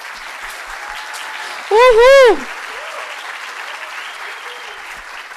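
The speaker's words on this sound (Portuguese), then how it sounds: "Uma salva de palmas para ele." An audience at an entrepreneurship event applauds a speaker taking the stage, a short burst of clapping that carries a loud whooping cheer, over a busy room murmur.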